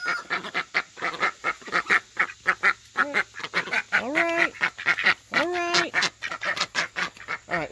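Khaki Campbell and Rouen ducks quacking loudly and close, a rapid run of short repeated quacks with a couple of longer drawn-out calls, no talk over them.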